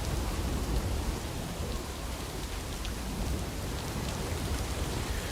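Timefall rain in the video game Death Stranding pours in a steady, dense hiss of drops on surfaces, with a low rumble underneath, unbroken throughout.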